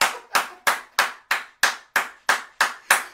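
Applause in a church congregation, heard as ten sharp, evenly spaced clap bursts with no talk over them.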